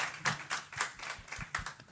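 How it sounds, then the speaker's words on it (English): Several sharp hand claps in an irregular burst from an audience at the NAMM Show, fairly close, with no voices over them. "everyone give applause."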